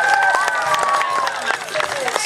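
Scattered clapping from an outdoor talent show audience in Cervo, a busy patter of hand claps mixed with crowd noise and a voice talking over it throughout.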